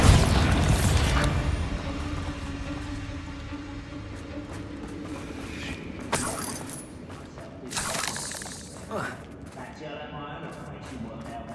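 A Bombarda blasting spell goes off in Hogwarts Legacy: an explosive burst that shatters into falling debris, then crashes and rumbles fade over several seconds with a few smaller impacts.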